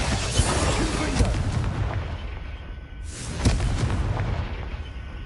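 Fiery spell explosions in the video game Hogwarts Legacy, with a dense, loud roar of booming blasts and crackling that swells twice over a continuous rumbling game soundscape.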